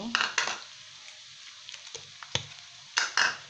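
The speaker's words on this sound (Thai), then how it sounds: "ผ ัดให้ทุกอย่างเข้ากันค่ะ" Crispy pork stir-fried with sugar, oyster sauce and seasoning sauce in a pan, with a soft steady sizzle and several sharp clanks and scrapes of a utensil tossing the food against the pan.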